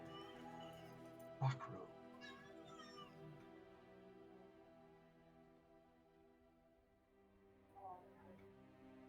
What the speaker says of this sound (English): Oh, did you hear my cat?